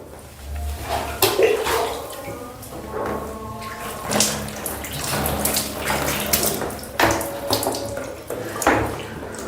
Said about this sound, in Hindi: तो देखिए 3 बार दाएं कंधे पर पानी डाला, 3 बार बाएं कंधे पर।